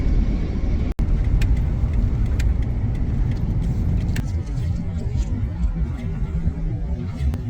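Car driving along a road near Gettysburg, a steady low rumble of engine and tire noise heard from inside, with a brief dropout and a quieter stretch later.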